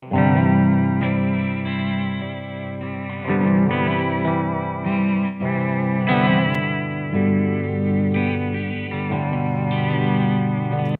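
Strummed guitar chords ring out through a wobbly, warbling lo-fi effect, pitch wavering and smeared with echo throughout.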